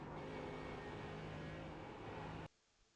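Race car on the Nürburgring 24-hour layout, engine held at full throttle, drones as a steady loud whine for a few seconds, then abruptly cuts to near silence.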